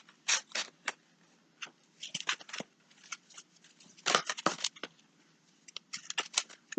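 Paper envelopes are gathered and handled in short, faint bursts of dry rustling and crinkling, scattered irregularly against near silence.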